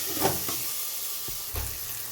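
Tomatoes with turmeric frying in a pan, a steady broadband sizzle with a couple of faint stirring scrapes and soft clinks, close and continuous with no talking.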